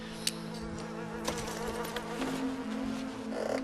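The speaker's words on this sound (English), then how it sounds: "You can really hear the flies buzzing" Flies buzz around a corpse in Red Dead Redemption 2, a quiet, continuous droning with soft tonal hum and occasional clicks, heard alone without talk.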